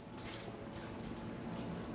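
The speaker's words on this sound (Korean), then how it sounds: "보시면 이렇게 허브를 먹여서 귀뚜라미를 사육하고 있습니다" Crickets on a herb-fed cricket farm keep up a steady, high, continuous chirping drone, soft and even throughout, with no voices.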